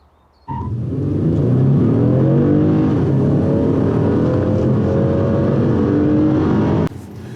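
A 2018 Toyota Camry with a new 203-horsepower four-cylinder engine and eight-speed transmission drives on challenging roads near Newberg, Oregon. It gives a loud, steady engine drone that rises smoothly in pitch as it accelerates, then cuts off abruptly.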